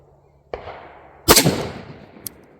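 A rifle shot fired at a target, one sharp loud report that rings and decays over about a second, set between a faint earlier click and a small later tap in a quiet outdoor range.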